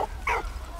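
A single short, sharp bark comes from a dog in the Valiant Hearts video game, close and clear, then fades into a quiet background hum.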